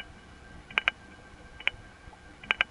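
Faint metallic clicks in small clusters over a low background hiss, like pulse dialing relays ticking through a telephone sub-exchange serving Kennedy Airport as the last four digits are dialed.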